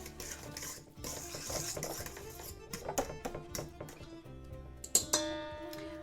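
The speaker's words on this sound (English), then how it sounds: "Quick stir." Spoon stirs mashed bananas in a bowl, with scraping, clinking taps against the bowl in quick irregular strokes, close and fairly quiet.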